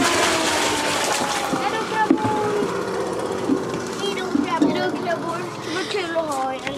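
Live crabs caught in a crab-fishing competition on Vrångö being poured out of a bucket into the sea, a steady sloshing splash under loud voices of several people talking and cheering close by.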